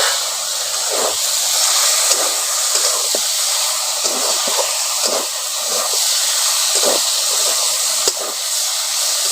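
Potatoes fry in a pan with a steady loud sizzle and hiss while a ground poppy seed and white mustard paste goes in, with occasional soft scraping and stirring knocks.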